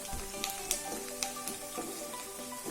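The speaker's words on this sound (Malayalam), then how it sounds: "ഇനി നമുക്ക് ചെറുതീയിൽ ഇഞ്ചിയും വെളുത്തുള്ളിയും ഒന്ന് നന്നായിട്ട് വഴറ്റിയെടുക്കാം." Ginger and garlic sauté in a pan on a low flame, producing a steady, close sizzle with faint crackles and a few soft stirring knocks.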